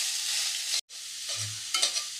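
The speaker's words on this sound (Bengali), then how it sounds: "এবার ভালো করে ভেজে নেব, ঘিয়ের মধ্যে ভালো করে ভেজে নেব।" Grated bottle gourd fries in ghee for a Bengali milk-and-gourd dish, giving a steady, close hiss that cuts out briefly, then resumes with a few scraping stirs of the spatula in the pan near the end; no one speaks.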